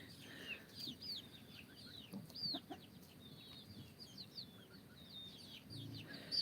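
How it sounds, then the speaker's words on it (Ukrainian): Geese honk in scattered, short squawking calls, fairly faint, over a low outdoor rumble with no voices. "Це гуси, це не індуутки, це гуси."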